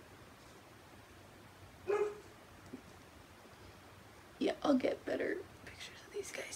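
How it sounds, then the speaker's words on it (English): A dog barks indoors, giving a short bark, then a tight cluster of sharp barks a few seconds later, close by. A person speaks quietly, almost whispering, between the barks. "That's my dog barking."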